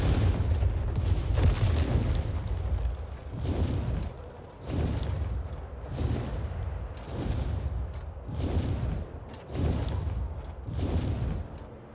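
Dragon fireballs in the video game Crimson Desert, a series of deep booming blasts repeating roughly every second and a half, loud and rumbling with no voices over them.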